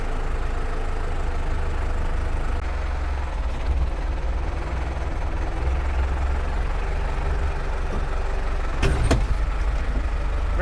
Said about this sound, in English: Here we are, moving a subframe with a tractor